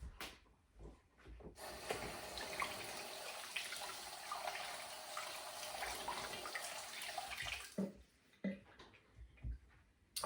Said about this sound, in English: Okay, then I'm gonna wash my hands again.